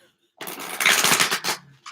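A deck of cards being shuffled close up, a dense burst of riffling flutters lasting about a second, followed by a brief pause and a final snap.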